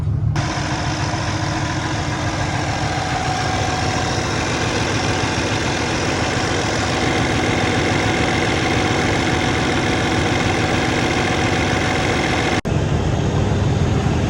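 A pickup truck engine idles steadily and loudly at close range, a constant low rumble with no talking, and one brief click near the end.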